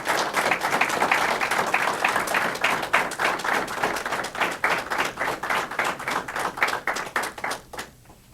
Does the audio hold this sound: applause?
yes